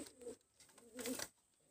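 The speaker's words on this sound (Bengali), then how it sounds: "আমি আরও দুইটা কবুতর দেখাচ্ছি" Pigeons of the Kamagar breed, a male and a female, give soft cooing calls in two short bursts near the start and in the middle, faint and fairly close in a quiet room.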